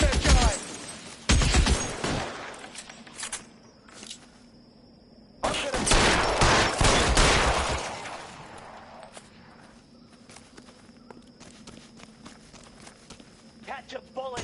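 Gunfire rings out in a shootout in the video game L.A. Noire, sharp loud bursts of shots in clusters, with shouted voices over them and quieter stretches between volleys.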